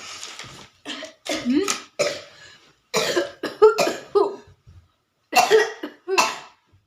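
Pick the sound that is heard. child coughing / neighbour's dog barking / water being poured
child coughing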